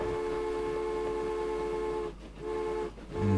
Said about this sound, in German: da hupt er zum letzten Mal seine Hubkolonne